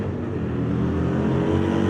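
A car sliding and revving, a loud close engine drone with steady harmonic tones that holds and swells slightly over two seconds.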